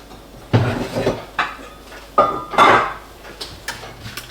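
A frying pan of eggs is lifted off the stove and set aside, giving several loud, close metallic clanks and knocks separated by short pauses, with lighter clinks and scrapes toward the end.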